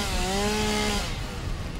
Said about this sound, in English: I'm gonna chop a few trees just to give us a clearer path